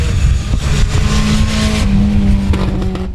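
A race car at South Texas Speedway accelerates close by, the engine note climbing steadily through a loud, continuous run lasting the whole moment.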